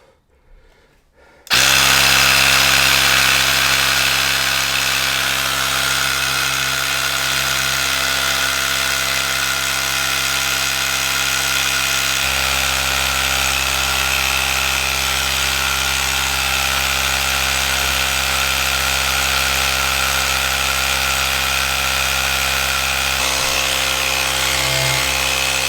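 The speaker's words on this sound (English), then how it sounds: "This is what I'm using. Little Ryobi hand compressor." A Ryobi battery-powered hand compressor runs steadily and loudly after a sudden start, its motor droning on without pause, with no talking over it.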